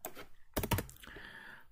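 A short burst of keystrokes on a computer keyboard as a search is typed into the Python documentation page, quick uneven clicks that come close and fairly quiet, with no one talking.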